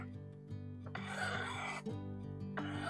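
A kitchen knife is drawn along a sharpening rod, held at a steady angle, in a few long rasping strokes over a low steady hum.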